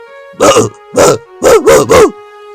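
A man imitates a dog barking: five loud, close, voiced barks, one, then another, then three in quick succession.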